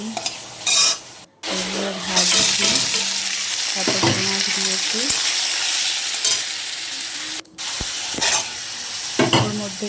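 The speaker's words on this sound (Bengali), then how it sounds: "তারপর একটা কড়াইতে ঘি দিয়ে জিরে তেজপাতা এলাচ দারচিনি" Whole cumin, bay leaf, cardamom and cinnamon crackle in hot ghee in a kadai for a paneer masala, with a close, steady sizzle, stirring scrapes and two brief silent breaks.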